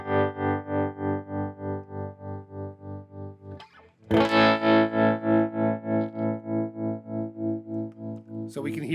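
Electric guitar played through Logic's amplifier modeling and digital effects, a sustained, heavily processed tone with regular pulsing swells, a brief gap near the middle, then a louder re-struck chord continuing alone.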